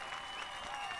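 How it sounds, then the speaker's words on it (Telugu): A short, steady burst of audience applause, an even, fairly soft patter of many hands clapping with no pause and no voices. "మీరు కొడుతున్న ఈ చప్పట్లు"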